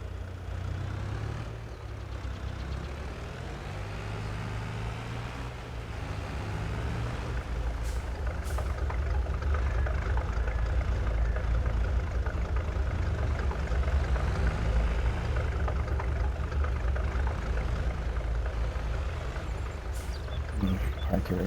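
A tractor engine idles in Farming Simulator 22 during olive harvesting, a steady low diesel rumble that runs throughout, with a couple of brief hissing air-brake bursts. A voice talks over it at times.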